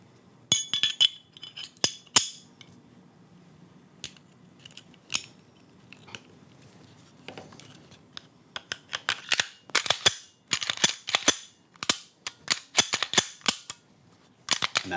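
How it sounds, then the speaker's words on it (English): A Walther PDP pistol being reassembled after cleaning: many sharp metallic clicks and snaps of parts and slide, sparse at first then coming in quick dense clusters, close and crisp with no talk. "And then I'm going to reassemble my firearm."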